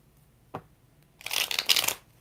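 A single tap, then a quick riffle of tarot cards being shuffled up close, a crisp fluttering burst under a second long.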